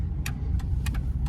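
A 1999 Ford Taurus drives along with a steady low engine and road rumble, broken by a few brief ticking clicks.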